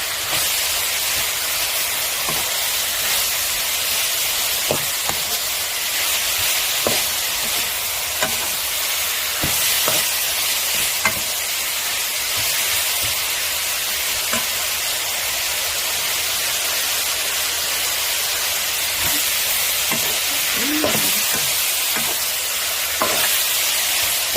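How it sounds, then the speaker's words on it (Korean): Braised burdock root stir-fried in a pan, a continuous loud sizzle with scattered soft clicks and scrapes of stirring throughout, close up and without talk. "진열치를 넣고, 이렇게 볶아주면 아주 그 음식 맛이 그만이거든요"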